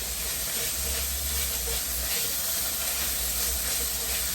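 Onions sizzling in hot oil for a cheesy beef potato casserole, a loud, steady, close hiss of frying that holds evenly without pause.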